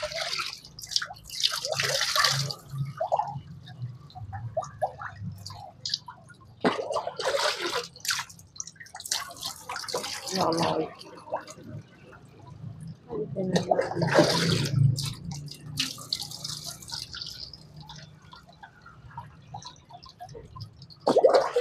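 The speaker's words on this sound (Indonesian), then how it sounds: "Setelah itu kita pancing, kita masukkan air ke dalam pipa keluaran" Water poured into the outlet pipe of a DSL 1300 water pump for priming, giving intermittent splashing and gurgling pours, near and moderately loud, mixed with someone talking throughout.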